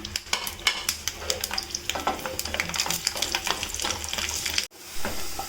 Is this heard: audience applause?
no